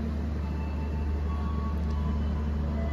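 Steady low rumble and rolling drone of the Gajahwong passenger train's stainless steel new generation carriages running on the rails in Indonesia, constant and moderately loud with a faint high whine, no talking.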